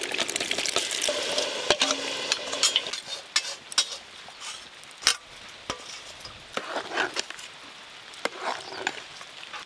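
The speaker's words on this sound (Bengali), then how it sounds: "সব কিছু একসঙ্গে ভালো করে মিশিয়ে নেব।" Khichuri ingredients (chopped vegetables, home-grown rice, mung and masoor dal, spices, sugar) stirred together in a pan, with close scraping and clattering strokes in an irregular rhythm over a soft sizzle.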